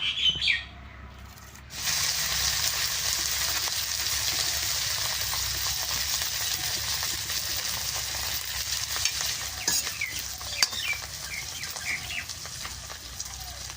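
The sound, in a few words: frying curry leaves until crispy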